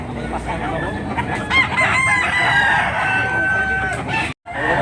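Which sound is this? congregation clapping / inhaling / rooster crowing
rooster crowing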